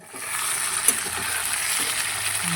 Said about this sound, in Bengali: এবার ভালো করে পেঁয়াজ টমেটোর সাথে আলুগুলোকে লাল লাল করে ভাজা ভাজা করব